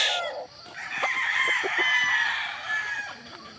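Gamefowl hens and roosters on a game farm cluck and crow, with one long crow standing out over scattered clucks, close and fairly loud.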